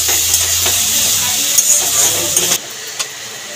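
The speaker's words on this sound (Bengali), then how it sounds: "পেঁয়াজ ভাজতে ভাজতে আমি রসুন বাটাটাও দিয়ে দিলাম, রসুনটাও পেঁয়াজের সাথে ভেজে নেব।" Onions fry in a pan with a steady hissing sizzle and a few light scrapes, then the sound cuts off abruptly.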